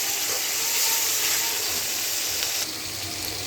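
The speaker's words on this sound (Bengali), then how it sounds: "এগুলি দিয়ে আমি ভালো করে এখন ভেজে নিব, যাতে কাঁচা গন্ধটা আর না থাকে।" Ginger and garlic paste fries in a pan for a chicken curry, a close, steady hissing sizzle that drops slightly in level near the end.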